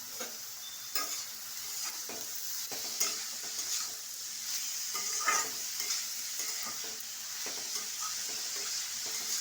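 Finely sliced beetroot frying in a pan with salt and turmeric gives a steady, close sizzle, broken by repeated scraping stir strokes throughout.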